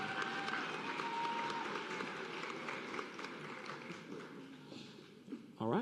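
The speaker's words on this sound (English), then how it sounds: "Round of applause for these students." Applause for students at a nursing school white coat ceremony, steady audience clapping with voices and movement mixed in, gradually thinning before a louder burst of noise at the end.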